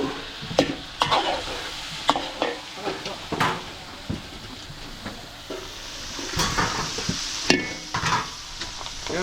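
Chicken breast and chicken liver stir-fry with garlic and onion for a catered chop suey, sizzling loudly in a pan while a utensil scrapes and clanks in irregular strokes, with brief voices at moments.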